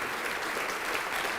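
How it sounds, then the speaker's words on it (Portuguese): A church congregation claps steadily, a dense, even wash of many hands that sounds close and continuous with no voices standing out. "Vamos aplaudir ao nome de Jesus."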